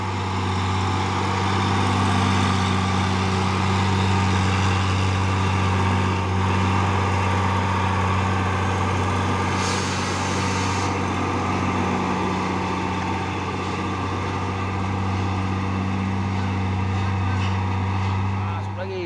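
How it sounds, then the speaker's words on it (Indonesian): A heavy diesel Hino Lovan trailer truck engine idles nearby in a steady low rumble with a constant drone, continuous and loud throughout. "Satu nih truk trailer Hino Lovan ini ya, bawa Isotek."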